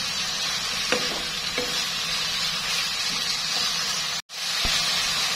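Small diced carrots stir-frying in a hot pan, a steady broadband sizzle throughout with occasional soft scrapes of a utensil and a brief break near the end.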